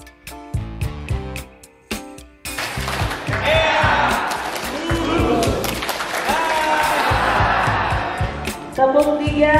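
Audience applause at a constitutional court technical training session for lawyers at Pusdik MKRI Cisarua Bogor, a sustained broadband clatter of clapping lasting several seconds, with brief louder bursts at the start and a swell at the end.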